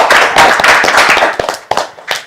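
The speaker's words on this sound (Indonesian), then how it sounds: "tepuk tangan dulu lah ya" A small studio audience at a political talk show claps in a short burst of sharp, close hand claps that thins out into a few scattered final claps.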